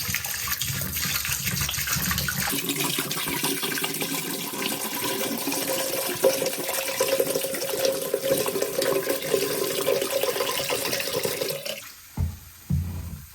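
Antifreeze pours steadily into a cabin's water line with a continuous gushing splash for about twelve seconds, then stops, leaving a few faint drips and knocks.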